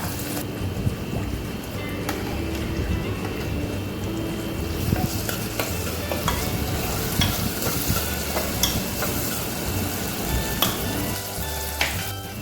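Finely chopped onions fry in oil for dalcha, giving a steady close crackling sizzle under repeated spoon stirs and scrapes against the pan, with no speech.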